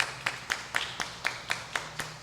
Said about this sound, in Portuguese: Eu já disse que tem que aplaudir a palavra de Deus.